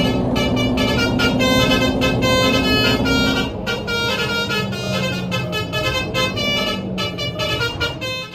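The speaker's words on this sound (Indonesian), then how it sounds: "kita tinggalkan kota Pekalongan tentunya dengan membunyikan klakson telolet kebanggaan para bocil, yakni klakson telolet Samsuri." A melodic multi-tone telolet bus horn, the Samsuri type, sounds in Euro Truck Simulator 2 as the bus leaves Pekalongan, Indonesia. It plays loud, rising and falling musical notes for about eight seconds over a low engine rumble.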